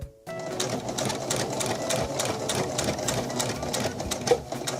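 Sewing machine running steadily while stitching a folded chiffon hem on a formal dress, a dense rapid whirring clatter held close and constant for nearly the whole stretch, one brief louder bump near the end.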